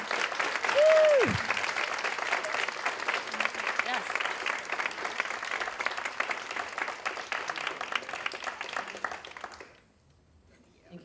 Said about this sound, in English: So can we give a round of round of applause